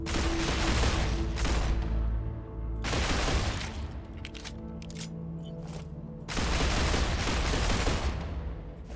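Heavy gunfire in the video game StarRupture: loud, close bursts of automatic fire in three long volleys separated by brief pauses, with scattered single shots in between.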